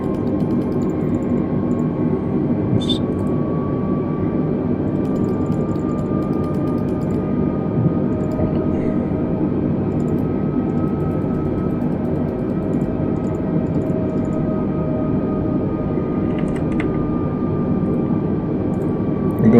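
Steady cabin-style engine drone from an Airbus A320neo descending in a flight simulator game, a constant broadband hum with a faint tonal whine, unchanging throughout with no voices.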